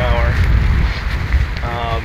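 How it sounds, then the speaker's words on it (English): Heavy wind of about 15 miles an hour buffets a lavalier microphone while biking, in a loud, low roar, with brief whistling tones rising and fading over the rumble. "riding a bike, it's really windy, so I can see the wind right now coming right at me"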